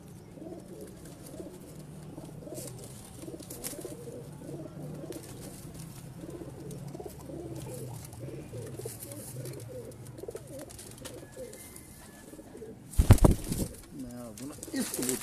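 Pigeons coo steadily at a pigeon breeder's loft, a low, overlapping murmur with faint voices in the background and a sudden loud clatter near the end.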